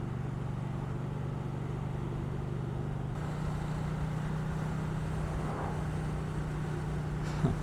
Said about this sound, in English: Ducati really did a great job with this engine.